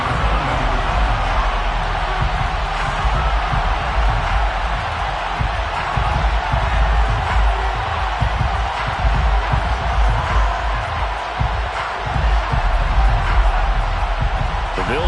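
A stadium crowd at an American football game featuring the Buffalo Bills keeps up a steady, wide roar across the whole stretch, with no break or swell, as a broadcast commentator talks over it.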